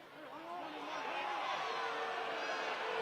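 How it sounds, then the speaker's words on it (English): A basketball arena crowd at a Montana State versus Weber State men's game murmurs and swells in reaction to a replay, a broad roar of voices and chatter that rises and holds steady. "Crowd reacting to the replay."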